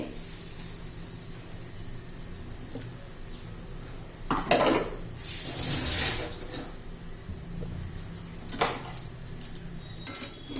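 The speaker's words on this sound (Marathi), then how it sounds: "एकदम एकसारखं हलवायचं आहे एकदम कोरडं झालं पाहिजे आपलं खोबरं" Grated coconut being stirred and dry-roasted in a kadhai for chocolate modak: quiet at first, then a few bursts of close scraping and light metallic clinks against the pan.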